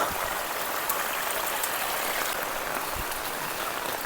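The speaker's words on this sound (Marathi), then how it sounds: "रिमझिम पाऊस ना चालूच आहे बंदच नाही होत आहे" Steady, soft hiss of light rain falling continuously, with no voices and no change in intensity.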